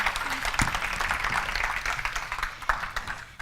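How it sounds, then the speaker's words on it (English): Audience applause rings out at a holiday closing ceremony, a steady wash of clapping lasting a few seconds with a faint voice briefly audible underneath. "Can we give them a round of applause?"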